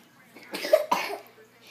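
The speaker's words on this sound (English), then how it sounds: "You coughing?" A child gives a couple of short, close coughs, with a soft throat sound between them.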